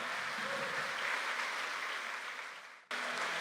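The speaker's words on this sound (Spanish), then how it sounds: "Dale ese aplauso fuerte a Cristo, pues." A church congregation applauds during a Spanish-language service, a dense, steady wash of clapping that holds for a few seconds, then fades and cuts off sharply.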